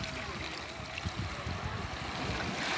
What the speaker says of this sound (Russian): Послушайте шепот моря.